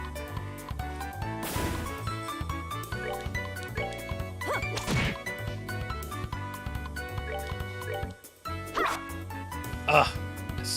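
A dog in the video game Trails in the Sky barks in a few sharp yips over busy game music, with a thwacking hit and a soft whimper, while a voice talks over the scene.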